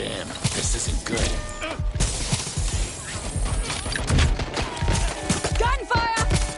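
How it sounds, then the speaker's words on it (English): Gunfire rattles through a busy Watch Dogs: Legion street fight, a dense clatter of shots, impacts and crashes mixed with game voices and effects. "Gunfire! I'm getting shot at here."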